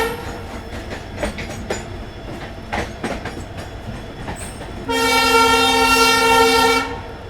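Rajasthan Sampark Kranti Express runs at speed past Gurgaon with a constant rolling rumble and rhythmic clicks over rail joints. Near the end a long, loud horn blast sounds for about two seconds, then the rumble carries on.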